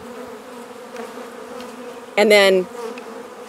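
Honey bees buzzing during a hive inspection, a steady close hum with one louder bee passing near for a moment, and a voice speaking briefly.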